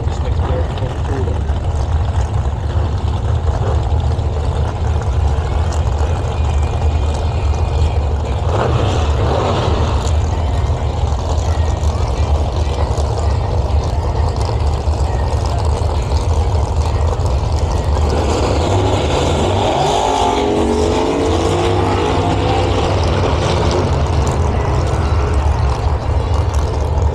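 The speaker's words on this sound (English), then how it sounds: "powered by a 383 stroker Ford engine into the beautiful Cortina" A Ford Cortina drag car powered by a 383 stroker Ford engine at a nostalgia drag racing meet, a loud continuous engine roar with deep low rumble throughout, a rising pass partway through, with a commentator talking over it.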